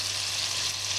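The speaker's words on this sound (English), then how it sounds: "get a fry pan on the hot stove and melt the butter" Butter melting in a frying pan on a hot stove gives a steady, even sizzle with a faint low hum underneath, continuous and close throughout.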